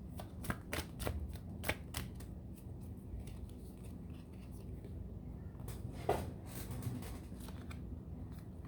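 Tarot cards are shuffled by hand in a quiet room. Crisp riffling bursts and soft card flicks repeat close by in an uneven rhythm, with faint talk in the background.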